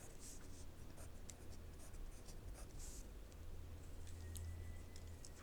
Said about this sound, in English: Now I'm going to write my new equation.